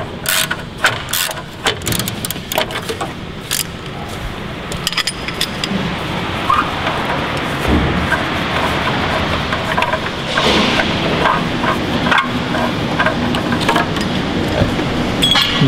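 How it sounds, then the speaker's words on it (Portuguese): Ratchet clicks and sharp metallic clinks come from working on a car's pre-catalytic converter oxygen lambda sensor as it is removed and replaced. Bursts of tool handling sit over a steady background hum, close to the microphone, with no speech. "vamos trocar o sensor agora"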